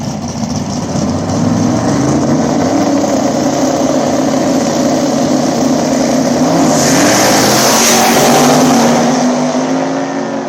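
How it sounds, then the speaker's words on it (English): A new twin-turbo Camaro races down a small-tire drag strip at a track in Hebron, Ohio, its engine roaring loud and steady throughout, with a brighter surge of noise near the end as it passes. "See what we can do with this new twin turbo Camaro"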